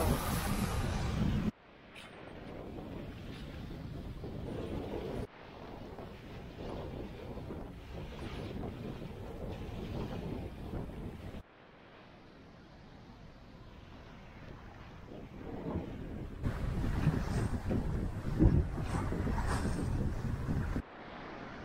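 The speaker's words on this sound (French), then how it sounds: "On est sous voile tranquillement entre 4 et 5 nœuds." Sailboat moving under sail at four to five knots on the open sea, with steady rushing wind and water noise buffeting the microphone, sections cutting in and out, no talking.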